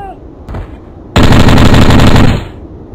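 In a video game, a short burst of loud, unsuppressed rapid gunfire, sharp and close, rattles off for about a second after a single earlier shot.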